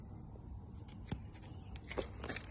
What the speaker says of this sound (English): Use the thinning scissors again in varying levels just above the clean cut line.